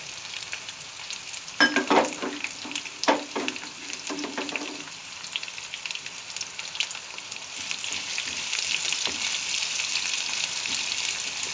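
Chopped onions tipped into a hot pan while cooking chickpea usli, a few clattering stirring scrapes early on, then a steady soft sizzle continuing on its own.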